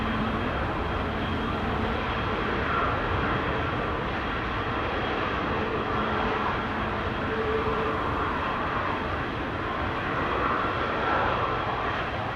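IndiGo airliner departing Amsterdam Schiphol, a continuous broadband jet engine roar at moderate distance that holds steady throughout.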